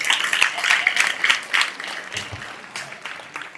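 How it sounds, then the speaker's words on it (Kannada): Sustained applause and clapping from an audience at a live comedy show in Yadur, broad and fairly steady for several seconds with a few louder bursts, no talking over it. "ನೀವು ಹೇಳದ ಕೇಳದ ಚಪ್ಪಾಳೆ ಹೊಡಿಕೈತಿರಂದ್ರೆ"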